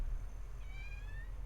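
A pet cat named Marie meows once, a rising and falling whine standing over a low steady room hum, close by and fairly faint.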